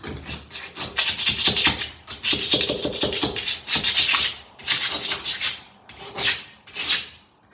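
Repeated rough scraping strokes from an impact scraper rasp against a painted wall, stripping layers of paint, coming in bursts with short pauses between them, close and fairly loud.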